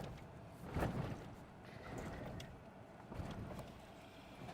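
A 2025 GMC pickup with a Pacbrake Alpha HD rear air bag suspension kit rolls over a bump course, giving a steady low road and cabin rumble with a few heavier thumps as the wheels hit bumps.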